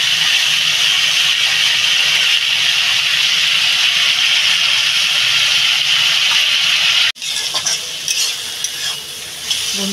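Onions and mango pieces fry in a pan with a loud, continuous sizzle and hiss, then the sound drops abruptly as a lid covers the pan, leaving a muffled, quieter bubbling with faint stirring clicks.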